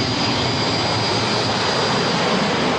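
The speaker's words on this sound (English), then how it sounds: "Hundreds of fighter jets and bombers take part in an all-out effort to destroy NATO's air force on the ground." Dense, loud roar of Soviet fighter jets and bombers passing overhead in a mass air raid, a continuous broadband engine rush with no gaps and no voices.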